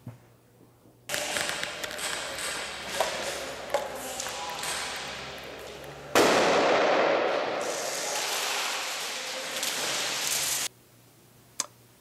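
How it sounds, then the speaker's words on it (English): Airsoft Thunder B grenades burst with sharp, loud, sustained noisy blasts, one from about one to six seconds and another stronger one from six to eleven seconds, with quiet gaps around them. "that was the footage of Bob's Thunderbee grenades"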